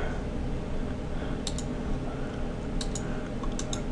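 Mouse clicks and a few keyboard taps at a computer running Rhino CAD, sounding as short, sharp, close ticks in small pairs over a steady low room hum.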